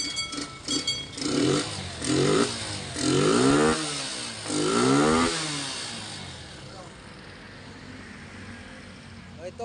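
A Honda TMX125 motorcycle with a misfiring, hard-starting fault, its engine catching and running with surging revs for several seconds before settling to a steadier idle that keeps going.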